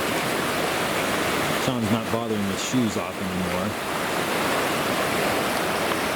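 Creek water rushes steadily at a trail stream crossing, a broad, loud, continuous wash filling the whole stretch, with a voice talking briefly partway through.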